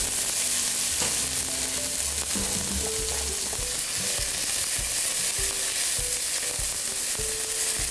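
Onions fry in olive oil and melted butter in a pot for tomato soup, giving a continuous, dense sizzling hiss that stays steady and fairly loud throughout, with occasional soft stirring sounds.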